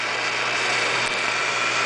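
A valve seat cutter spindle for cylinder head rebuilding gives a steady high-pitched motor whine with a constant hum underneath, spinning continuously nearby, unchanging throughout.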